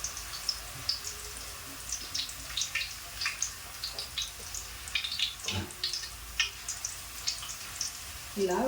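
Thin potato slices for homemade chips frying in hot oil, a soft continuous crackling sizzle with scattered pops, fairly quiet and mostly alone.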